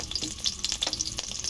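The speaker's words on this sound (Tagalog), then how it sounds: "lagay na natin diretso yung ating mga ricado. Bawang," Garlic and aromatics frying in a pan for chicken curry, a steady bright sizzle with crackling pops and occasional stirring scrapes, close and fairly loud with no talk.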